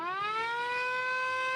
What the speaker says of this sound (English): Becky will do a little siren.